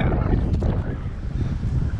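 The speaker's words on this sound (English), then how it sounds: "It's extremely windy." Strong wind buffets the microphone on a fishing outing, a loud, continuous low rumble with gusty fluctuations throughout the short moment.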